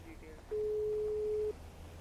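A single flat electronic beep from a phone call being cut off inside a video game sounds for about a second, moderately loud against quiet background murmur.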